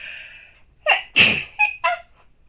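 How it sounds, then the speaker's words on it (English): A single sneeze with a sharp intake of breath, followed by a few short breathy sounds, close and clear. "I'm sorry for the sneeze."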